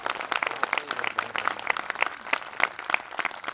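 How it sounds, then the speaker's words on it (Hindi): Audience at a spiritual introduction camp session in Palitana, Gujarat, claps loudly and briskly, many hands striking in a quick, uneven patter that stays close and constant throughout with no talk. "पहले तो आप सभी को खूब जोरदार धन्यवाद, जोरदार ताली।"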